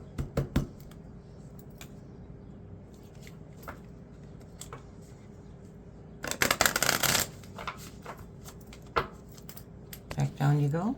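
Cards being shuffled, soft intermittent riffles and taps over a low steady background, with a louder burst of riffling near the middle and a few clatters toward the end.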